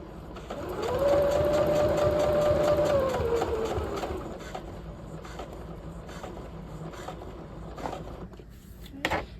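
A sewing machine stitches a seam allowance on a half-scale jacket's double welt pocket, running in a steady whirring burst that slows and fades, followed by quieter handling noises and a small clunk near the end.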